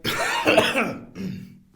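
A single short cough, close and clear, followed by a brief throat-clearing rasp.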